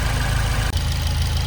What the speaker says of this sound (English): we'll do a few little revs so we can film it, and you'll hear what it sounds like